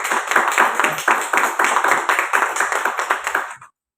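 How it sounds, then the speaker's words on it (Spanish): An audience gives rhythmic applause for an invited guest at a testimonial gathering, the claps loud and close with a patterned beat, stopping abruptly after about three and a half seconds. "quiero que le brindemos un tremendo aplauso."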